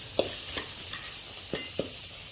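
Biryani masala fries in oil for mutton biryani under a soft steady sizzle, broken by about six quiet stirring scrapes at irregular intervals.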